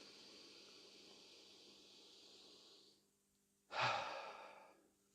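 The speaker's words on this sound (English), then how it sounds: "You're breathing in, you're breathing out." Slow, faint breathing during a guided energy meditation class: a long, soft airy inhale hiss fades into a pause, then a fuller, brief exhale rushes out.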